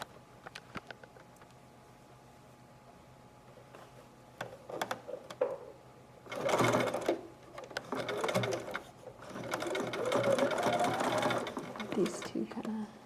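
A sewing machine stitches across fabric during a hood-making sewing class, starting with scattered ticks and clicks, then running in two bursts of steady mechanical whirring, with faint talk in the background.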